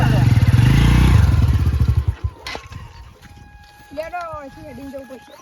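A motorcycle engine rumbles loudly up close for a couple of seconds, then sputters and fades, followed by voices and animal sounds.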